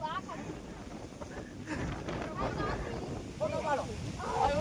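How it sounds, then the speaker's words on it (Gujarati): Storm wind gusts over a river, buffeting the microphone with a low, rough roar that swells toward the end while people talk over it. "આપણે વાવાઝોડું છે"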